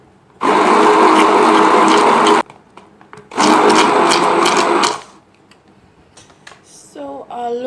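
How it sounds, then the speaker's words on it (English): A stick blender whirs loudly through homemade organic body lotion during the cool-down mixing stage, in two sustained bursts of about two and three seconds separated by a short pause, followed by quieter handling noises. "I'm going to take out the stick blender."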